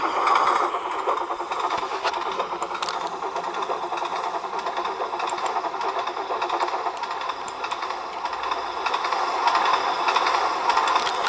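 Thomas the Tank Engine races at over 100 miles an hour in the train simulator Trainz: A New Era, a continuous rushing rumble with rapid rail clatter that holds steady and swells slightly near the end, with no talk over it.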